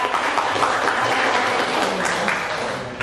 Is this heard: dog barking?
no